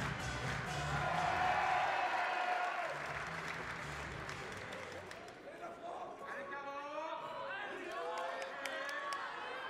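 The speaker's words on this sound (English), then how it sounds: "The crowd are loving it." A crowd at an indoor archery world series tournament in Nîmes applauds and cheers loudly, swelling early then easing into steadier clapping, with a commentator talking over it.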